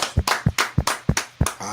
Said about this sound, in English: Hassan Burton and Robbie Blue, let's give them a round of applause